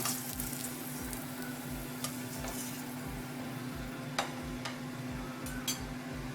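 Vegetables fry in hot oil for Bengali sukto, a steady close sizzle with rhythmic low scraping strokes of a spatula and occasional sharp clinks against the pan.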